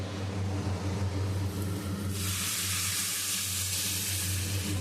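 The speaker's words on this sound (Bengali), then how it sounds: "সুন্দর ভাজা ভাজা হয়ে গেছে, একটা সুন্দর স্মেলও বেরোচ্ছে। এখন আমি দিয়ে দিব গরম জল।" Hot water is poured into frying bhuni khichuri in a pan, and a bright, loud sizzling hiss erupts partway through, overtaking the steadier low frying sound and a constant hum in the kitchen.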